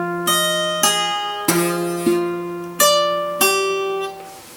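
An acoustic guitar plays part of a song as a lesson excerpt: about six clear plucked chords or notes, each ringing and fading before the next, close and alone without speech.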